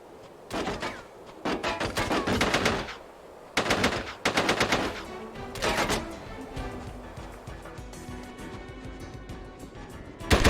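Automatic weapons fire in the combat video game SOCOM 2 U.S. Navy SEALs comes in loud, rapid bursts with short gaps between them. Heavier single shots and impacts sound under a constant background of battle noise.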